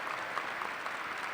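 Steady round of applause from a commencement crowd at Murray State University, dense even clapping spread evenly across the hall, moderately distant, with no voices over it.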